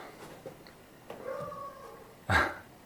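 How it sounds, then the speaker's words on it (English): A dog barks at squirrels outdoors, heard from inside as faint distant whines followed by one sharper, louder bark near the end, with no talk over it. "can hear the dog outside in the background barking at squirrels."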